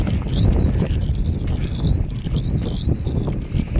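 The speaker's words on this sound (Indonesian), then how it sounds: "angin pun semakin kencang." Strong wind high on Papandayan mountain buffets the microphone in a steady, loud roar with gusting surges throughout, no voices over it.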